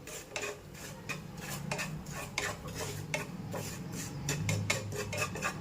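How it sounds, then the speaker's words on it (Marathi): Semolina roasts in ghee in a pan for karanji filling, with a steady scrape of a spoon stirring against metal, rhythmic rasping strokes and a soft sizzle underneath, close and moderately loud. "आता रवा देखील चांगला तुपामध्ये भाजून घ्यायचा आहे लालसर होईपर्यंत"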